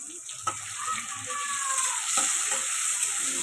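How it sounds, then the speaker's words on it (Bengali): Onion and a green chilli frying in plenty of hot oil in a wok, giving a steady bright sizzle with a couple of sharp clicks and light stirring scrapes. "পেঁয়াজটাকে আমি ভাজবো।"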